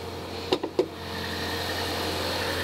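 A 2019 VW Golf GTI engine idling after start-up, a smooth steady hum with a few sharp clicks or knocks early on, close and even, no talking.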